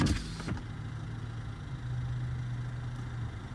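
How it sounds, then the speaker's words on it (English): A car engine idling in a cold parking lot with the heater running, a steady low hum held close and continuous throughout, with no talk over it. "they've just been sitting there for the last 15 minutes idling their car"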